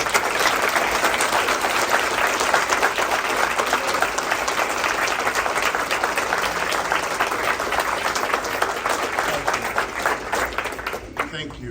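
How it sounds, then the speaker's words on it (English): Sustained, dense applause from a large crowd at a military retirement ceremony, steady and loud throughout before fading out at the very end. "Can we just give this wonderful family a round of applause?"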